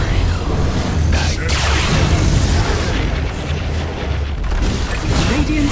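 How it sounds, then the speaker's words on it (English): A tower is destroyed in the video game Dota 2, heavy booming crashes and rumbling debris bursts that stay loud and dense, with game voices and sound effects layered over the top. "Middle tower has fallen."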